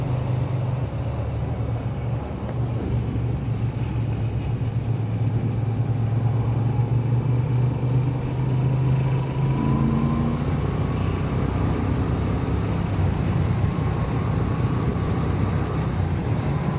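A Moto Guzzi motorcycle engine on a ride in sixth-gear territory gives a steady, low, even drone at modest revs, with constant wind rush over it and no voices.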